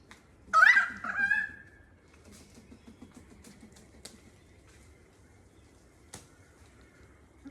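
Birds calling near a beach in a jungle setting: a loud burst of squawking calls at the start, then softer scattered chirps and one sharp click later, with no talk.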